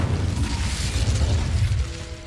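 Casting the Incendio fire spell in Hogwarts Legacy gives a sustained whooshing, rumbling burst of flame that stays loud and dense throughout the short stretch.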